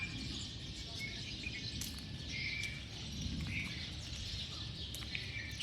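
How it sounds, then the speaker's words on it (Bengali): Myna birds and pigeons call faintly from a park with bamboo clumps in the late afternoon. Scattered chirps sit over a quiet, steady hum of insects, with no talking. "শালিক পাখি, কবুতর।"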